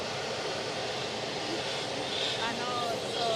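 British Airways plane arriving at Edinburgh airport, a continuous broad engine roar, close and fairly loud, with voices talking over it.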